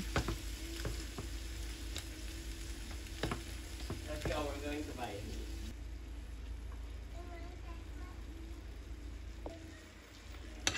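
Bangus sisig with calamansi sizzling in a pan while being stirred, a close steady crackle broken by spatula scrapes and clanks, with a faint voice murmuring partway and the frying easing toward the end.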